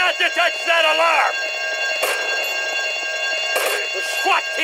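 A bank alarm rings loudly and steadily throughout a GTA: Vice City scene, a continuous electronic bell tone with brief sharp bursts and a voice heard over it near the start.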